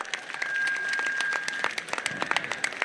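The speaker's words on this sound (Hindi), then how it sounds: "जोरदार स्वागत, तालियों के साथ स्वागत करें।" Crowd at an outdoor election rally in Anta Mangrol applauding to welcome a candidate, scattered quick claps spread across the gathering under a sustained high tone, thinning into sharper individual claps toward the end.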